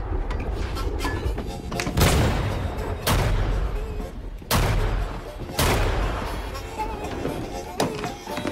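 Four loud, sharp gunshots ring out at irregular intervals in a film scene, each a close, punchy crack with a short booming tail, heard over a low background rumble.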